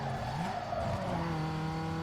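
Race car engine droning in the street racing game Need for Speed Underground 2, a steady loud tone that shifts pitch as gears change, with a faint tire squeal and no talk.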